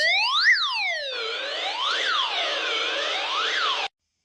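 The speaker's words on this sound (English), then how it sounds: "it'll put an alarm out there for everybody to hear that you're in distress" A loud, piercing emergency alarm from a Retevis RB17P two-way radio warbles in rising and falling sweeps, changing pattern partway through, then cuts off abruptly. No voices.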